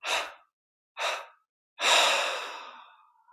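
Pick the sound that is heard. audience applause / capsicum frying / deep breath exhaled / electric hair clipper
deep breath exhaled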